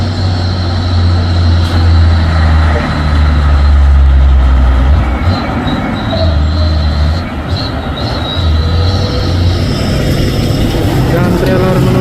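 A Fuso intercooler tanker truck labouring up a hill, a loud, deep engine drone with heavy low rumble that dips and rises, continuous and close, with road and wind noise layered over it.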